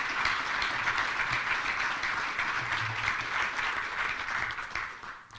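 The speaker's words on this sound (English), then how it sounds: "Let's give them a round of applause." Steady applause from an audience at a county budget announcement, greeting the county sheriff and his team, a dense wash of clapping that holds for several seconds before thinning slightly at the end.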